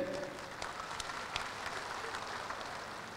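Audience applause for the Vice President at the Golkar Party's 60th anniversary celebration, a dense patter of many hands clapping, moderately faint and even, with a few sharper claps standing out.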